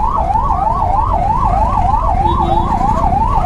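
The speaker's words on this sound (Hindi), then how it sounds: "लेकिन एम्बुलेंस को तो कम से कम रास्ता मिलना चाहिए।" A loud ambulance siren wails nearby in a traffic jam on the road from Delhi toward Dharchula, its rapid rising-and-falling yelp repeating steadily over engine rumble.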